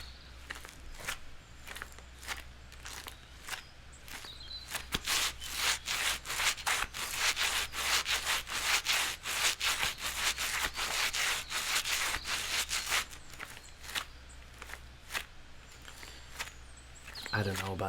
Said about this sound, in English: I love the sound of gloves.